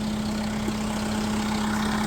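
A new Kubota tractor fitted with a front-end loader idles steadily nearby, a constant low engine hum with a strong tonal drone and no breaks across the short stretch.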